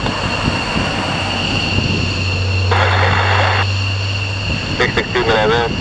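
Four F-15 fighter jets from Lakenheath depart RAF Mildenhall with a steady, loud engine roar and a droning whine, while radio voices chatter over the noise.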